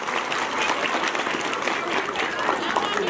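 A school audience at an Independence Day program claps together in sustained, dense applause, steady and moderately loud throughout with a faint crowd murmur beneath.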